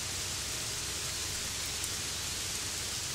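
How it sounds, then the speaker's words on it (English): Steady rain in the video game Gothic 3, a dense, even hiss of falling water that holds without pause, with no voices over it. "And it's raining."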